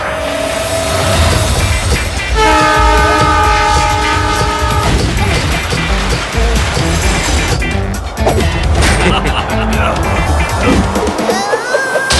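A train roars along on the rails with a sustained horn blaring in layered tones over continuous rumbling and clatter, loud and close throughout, with some voice-like sounds mixed in.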